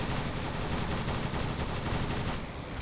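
Continuous dense rattle of aircraft guns in a flight sim game, a steady loud stream of rapid shots held throughout with no pause and no voices.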